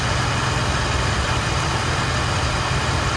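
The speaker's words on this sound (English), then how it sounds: "compressor's engaged right now" Refrigeration compressor engaged and running on a unit with a full refrigerant charge, a dense, loud, steady mechanical hum and rumble heard up close without pause.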